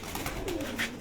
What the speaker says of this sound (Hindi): अब ये दोस्तों इस कबूतर को अगर आप देखें तो बड़े कद में ये कबूतर आपको नजर आएगा।